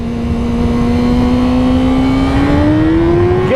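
A 2017 Yamaha R6 sport motorcycle engine revs hard and accelerates, its loud, close whine climbing steadily in pitch without a break from start to finish.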